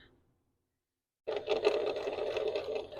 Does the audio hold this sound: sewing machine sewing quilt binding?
yes